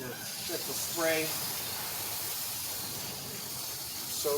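Water spray rinsing a Shelby at a car wash, a steady broad hiss running throughout at moderate level, with brief voice-like fragments near the start and end.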